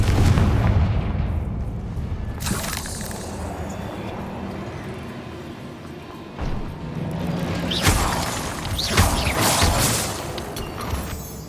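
A Confringo blasting spell explosion in Hogwarts Legacy: several booming blasts with crackling debris bursts, the loudest near the start and later, over a rumbling game backdrop with no talk.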